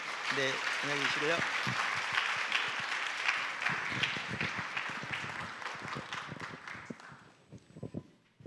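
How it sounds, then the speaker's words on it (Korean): Applause from a church concert audience as a memorial society chairman comes forward, a sustained wash of clapping that slowly thins and fades, with a brief spoken farewell at the start and scattered talk near the end. "박수로 한번"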